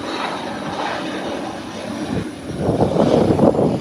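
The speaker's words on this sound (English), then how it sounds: "Small but very loud. It's a Learjet 35." A Learjet 35 small business jet landing at an airport roars loudly as steady broadband engine noise, swelling louder over the last second or so, with no talk.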